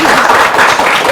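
An audience claps in applause at a studio show, heard as a brief, loud burst of clapping with a voice speaking over it.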